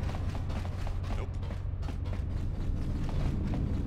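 Mechanical creaking and grinding of a door sliding open in KotOR II, a steady low rumble with scraping, ratchet-like ticks layered over it.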